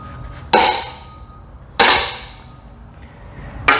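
An axle on a Tesla Model S popping free during a rotor coolant delete on the large drive unit gives two sharp, loud metallic clunks about a second apart, each ringing briefly before fading, with another starting at the end.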